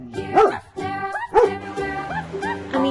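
A dog lets out a series of short yips and whining barks, about four or five close, high-pitched calls spread unevenly over a few seconds.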